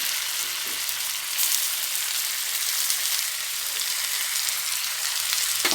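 Three small chopped tomatoes sizzle and crackle steadily in a hot pan for moong dal kurma, a constant bright frying hiss close to the listener.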